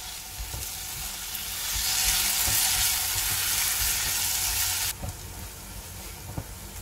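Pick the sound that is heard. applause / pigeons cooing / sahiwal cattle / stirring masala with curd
stirring masala with curd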